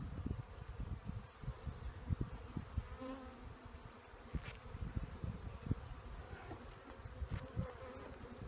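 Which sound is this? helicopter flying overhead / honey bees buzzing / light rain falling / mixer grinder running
honey bees buzzing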